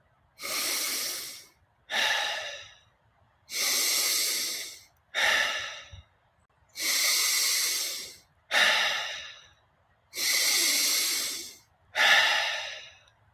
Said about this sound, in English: Breathing in and letting it go